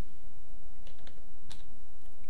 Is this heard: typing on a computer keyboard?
yes